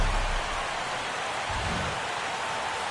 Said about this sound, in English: the rain's coming down pretty good here at Fenway Park in Boston